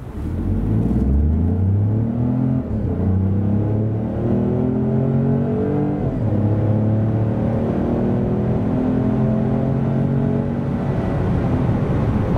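A 2023 Opel Mokka's 1.2-litre three-cylinder turbo engine revs hard accelerating from 0 to 100 km/h through several gears, its pitch climbing and dropping at each shift, loud and close with no talking.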